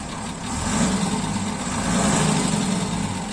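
A car engine runs loud and close, a steady mid-pitched drone that swells slightly as it is revved, with no voices over it.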